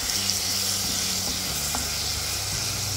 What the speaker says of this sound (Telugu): ఆయిల్ వేడైన తర్వాత 1 టీ స్పూన్ అల్లం వెల్లుల్లి పేస్ట్ వేస్తున్నాను.